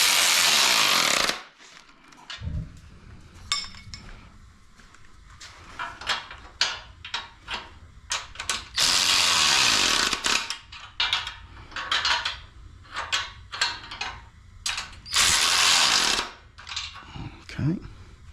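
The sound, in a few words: torquing bolts down with a wrench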